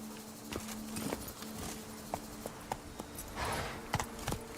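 Horse hooves clip-clopping in Witcher 3, a rhythmic series of sharp hoof strikes at a steady trotting pace, close and fairly clear over a low background bed.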